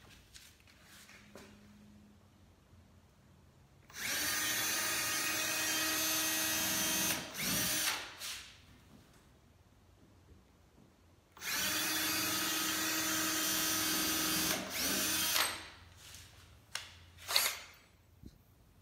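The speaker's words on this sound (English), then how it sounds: "drill pilot holes and then screws." A power drill bores pilot holes through wood boards while side rails are added to a Gorilla Cart, two sustained loud whirring bursts of about three to four seconds each, separated by quiet handling noises and clunks.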